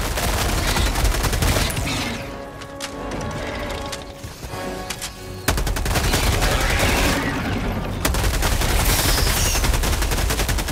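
Sustained gunfire from weapons shooting at an enemy bug in the video game Helldivers 2, dense and loud throughout with a dip in the middle and layered crashes, carrying on without speech.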